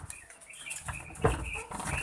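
A male quail beats its wings in short, soft flurries while being held before slaughter; a quiet, close fluttering with brief pauses.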